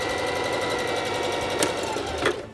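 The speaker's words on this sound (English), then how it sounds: "This is my new sewing machine that I got." A new sewing machine stitches a fabric face mask, a steady rapid mechanical whir with fine regular needle clatter running throughout, close and loud, with two brief louder clunks near the end as it slows and stops.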